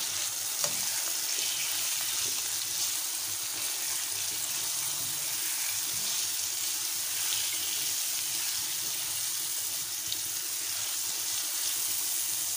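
Green chillies and spices fry in a pan for a spicy chicken karela gosht, giving a steady, close sizzle with faint stirring throughout, no voices.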